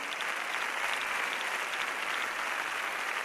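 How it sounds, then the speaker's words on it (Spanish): Theatre audience applauding after a play at the Roman theatre in Mérida, a dense, steady wash of many clapping hands sustained throughout without pause. "el público aplaude puesto en pie"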